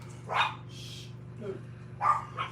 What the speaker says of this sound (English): and then the dogs are gonna bark